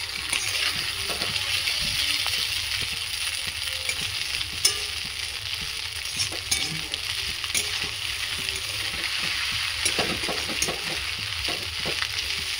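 Chowmein stir-fried with soy sauce and vinegar, a steady close sizzle throughout with repeated metallic clinks and scrapes of the spatula against the pan.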